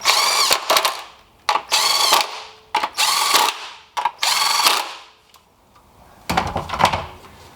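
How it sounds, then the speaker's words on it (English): Bolts being tightened on the valve cover of a K24 engine in a 2012-2017 Honda Accord, heard as several close, loud bursts of a power tool whirring in short pulses separated by brief pauses. "go on ahead and tighten all these up"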